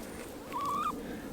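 Chicken in a backyard chicken coop, one drawn-out warbling cluck, fairly close against low background noise.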